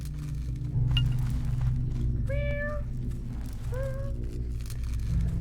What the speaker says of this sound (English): Cat noises.